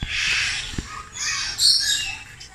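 Harsh, raspy parrot calls and squawks sound nearby at a zoo over a couple of seconds, with no speech.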